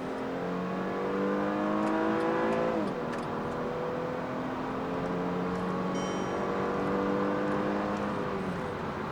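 Mercedes-Benz CLS350 Shooting Brake with a naturally aspirated 3.5-liter V6, revved repeatedly so the engine note climbs and falls in smooth sweeps, heard steadily at moderate distance without talk.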